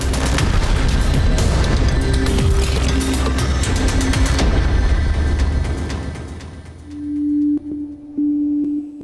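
Dense, continuous bursts of gunfire and booming blasts fill the first half, fading out into quieter rumble and a few tonal hums.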